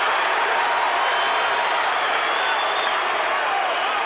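Boxing arena crowd at a 2005 title fight between Winky Wright and Tito Trinidad, a dense, loud, sustained roar of cheering and applause with no break.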